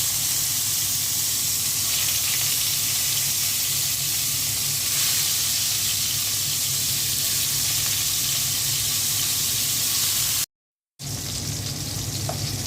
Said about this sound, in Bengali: মাছটা দিয়ে দিচ্ছি, আর মাছটা হালকা ভেজে নেব